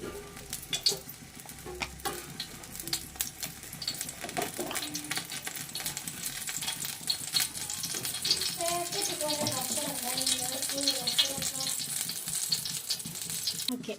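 Oil sizzles steadily in a pan as ghee and sunflower oil heat for a home-cooked chicken dum biryani, a continuous hiss broken by scattered clinks and stirring scrapes, with some faint speech.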